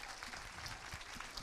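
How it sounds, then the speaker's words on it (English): Audience applause at a talk event, a steady wash of many hands clapping together at moderate, even loudness throughout with no voices over it. "Karen, can we have a round of applause for Karen as well?"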